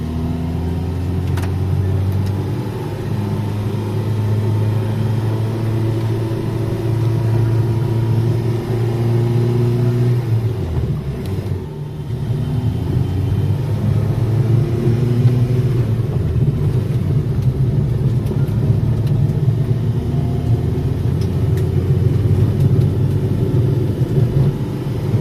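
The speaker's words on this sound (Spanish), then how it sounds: "cómo responde este coche en entorno secundario" A Renault 4 GTL carrying two people drives a secondary road, its engine giving a steady, loud mid-pitched rumble that holds throughout with slight dips and surges under load, and no talking.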